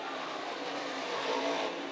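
Modified race cars at Can Am Speedway roar through a turn, a loud, continuous, dense engine drone from several cars together, steady with a slight swell near the end.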